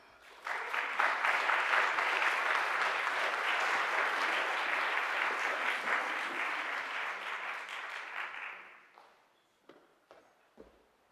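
An audience at an arts talk breaks into steady, dense applause as the artist Tania Bruguera is welcomed to the stage. The clapping holds for about eight seconds, then fades to a few scattered claps and footsteps.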